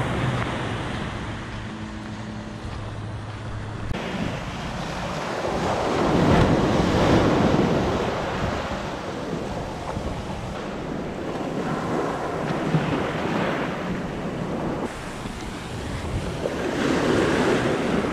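Surf rolls onto Fort Myers beach in Florida, broad washing waves swelling and easing in slow surges, with wind buffeting the microphone throughout and no voices.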